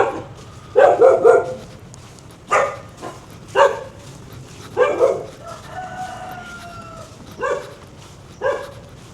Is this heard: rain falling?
no